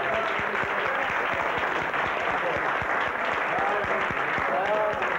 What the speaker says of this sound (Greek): και χειροκρότημα